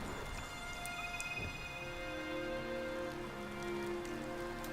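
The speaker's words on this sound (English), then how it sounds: "go turn the rain off." Steady rain falling in the video game Sky: Children of the Light, a dense continuous patter with soft sustained ambient tones beneath, even and unbroken throughout.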